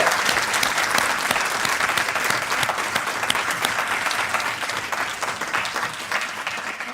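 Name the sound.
audience applause at inauguration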